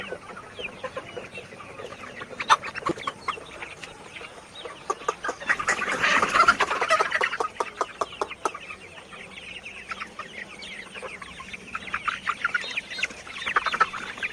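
Many Sonali hybrid chickens, about 50 days old, clucking continuously nearby, a busy overlapping flock chatter that swells louder in the middle and again near the end.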